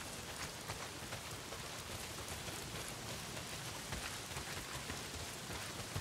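Heavy rain in the video game Days Gone, a dense, even hiss of downpour filling the whole stretch at a steady moderate level with no voices over it.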